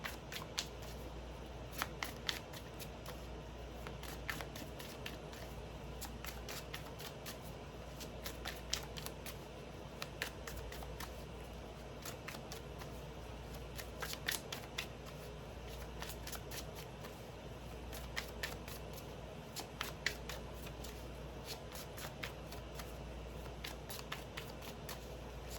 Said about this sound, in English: You know how I say actually shuffling helps me like zone in.